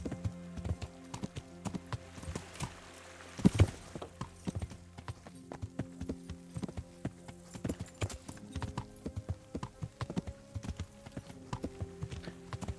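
Rhythmic clip-clop of a horse's hooves on a path in the medieval video game Kingdom Come: Deliverance, an even trotting beat that runs steadily across the whole stretch at moderate loudness.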